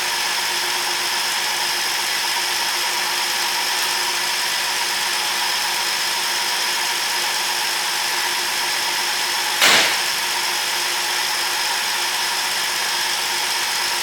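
A rebuilt Ford 300 six-cylinder engine idling in a 1954 International truck, a loud steady even hum throughout with one brief sharp knock near the end, no talking.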